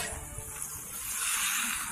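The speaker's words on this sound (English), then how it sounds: "can you hear the sizzle?" Stuffed eggplant just taken from the oven sizzles with a steady, soft hiss that holds evenly throughout, close and alone with no talk.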